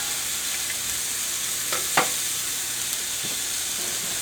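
Onions and a burger patty fry on a hot cast iron griddle in a steady close sizzle, with a couple of brief scrapes or clinks partway through.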